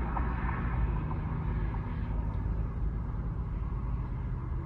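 A car engine idles steadily at close range, a constant low rumble running unbroken throughout with no voices over it.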